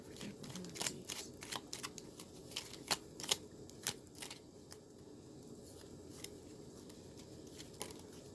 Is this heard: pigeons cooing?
no